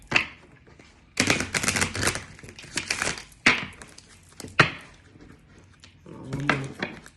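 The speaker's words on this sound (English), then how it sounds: "Make sure I get a good shuffle." Tarot cards shuffled by hand for a reading, with bursts of riffling and flapping cards in several separate runs, close and fairly loud, with short pauses and a soft thud between them.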